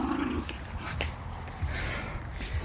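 A dog gives soft, brief whimpers and snuffles close by against a noisy background, with no clear speech.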